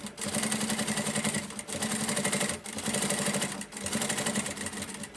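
A sewing machine runs in fast, steady bursts as it stitches a securing seam along the edges of the main fabric and lining for a zippered cosmetic bag, with short pauses between runs.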